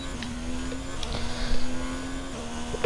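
A Formula 1 car engine on a qualifying lap at Austria in F1 2019, holding a steady high-pitched buzzing drone with slight pitch shifts, loud and continuous, with no talk.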